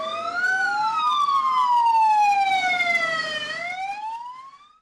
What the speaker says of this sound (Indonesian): 6 ambulan dikawal oleh kepolisian.